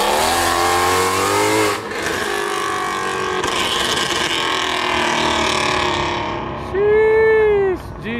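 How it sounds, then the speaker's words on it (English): Engines rev at a night car meet in Illinois among muscle and sports cars, a loud sustained roar with rising and falling pitch, ending in a sharp high rev near the close; crowd voices underneath. "Come on, rev it!"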